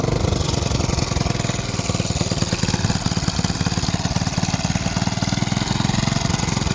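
A small, inexpensive tractor engine runs steadily after starting, with a loud, close, rapid chugging rhythm that holds at an even idle throughout.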